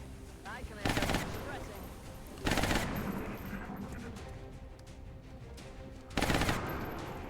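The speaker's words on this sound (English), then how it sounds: "Sectoid is going to shoot at the Shiv" Alien Sectoid firing at a SHIV robot in XCOM Long War, three loud sharp bursts of weapon fire spaced a few seconds apart over a quieter game background with a voice talking.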